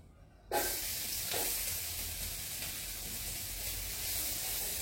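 Garlic dropped into hot oil over medium heat, giving a sudden loud sizzle that settles into a steady, close hiss of frying. It plays alone without speech.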